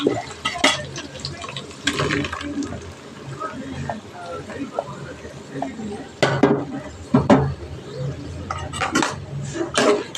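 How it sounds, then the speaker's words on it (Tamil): Garlic, shallots and tomato paste sizzle in a pan for a Tamil curry-leaf gravy while a utensil stirs and clinks against the metal, giving repeated scraping taps over a soft simmer, with a voice talking throughout. "அதுவும் நல்லா கிளறி கொடுத்து நல்லா வதக்கிக்குவோம்"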